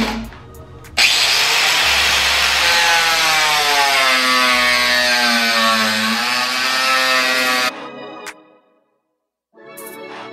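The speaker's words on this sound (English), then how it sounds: "Now I'm just going to cut the tube." A power saw whines loudly and steadily for several seconds while cutting through the intake tube for a Miata cold air intake, its pitch dipping slightly under load, then stops abruptly followed by brief quiet and small handling sounds.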